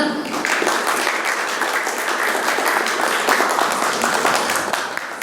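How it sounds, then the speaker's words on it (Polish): At a scholarship diploma ceremony for prime minister's award recipients, a hall of people breaks into lively, continuous clapping that stays fairly loud throughout before easing slightly at the close. "Gratulujemy, brawa."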